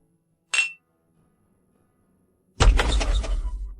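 Drinking glasses clink once in a sharp, brief ring, followed after a quiet pause of about two seconds by a louder, sustained noisy rush.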